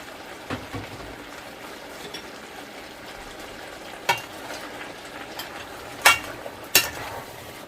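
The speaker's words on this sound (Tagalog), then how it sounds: "Mix lang muna natin to." A spoon stirs squash and tomato into pinakbet in a pan: soft, continuous scraping and gentle sizzling, with several sharper clinks of the utensil against the pan, close and fairly quiet.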